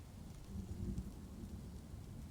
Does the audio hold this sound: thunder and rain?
yes